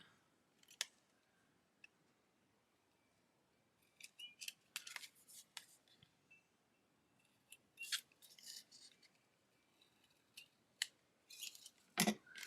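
Scissors trim paper for a gift card holder in a short series of quiet, crisp snips scattered through a hushed room, with one louder cut near the end.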